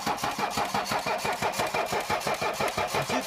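An old Mercedes-Benz engine cranks over on the starter in a steady, rapid rhythmic chug without catching, loud and close throughout.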